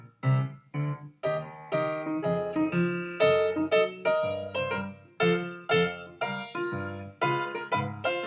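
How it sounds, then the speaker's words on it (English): Piano played in a bouncy honky-tonk style, alone and fairly close, with punchy rhythmic chords and bass notes in a steady, lively pattern. "And the piano sounds like this."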